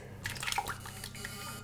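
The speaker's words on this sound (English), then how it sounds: "That's just going to drip through" Home-made elderflower cordial, steeped for 24 hours, drips and trickles through a strainer with soft, faint wet squishing sounds close by, with no talking.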